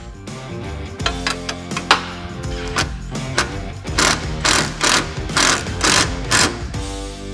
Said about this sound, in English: So now we're just gonna go ahead and fully tighten our hardware here.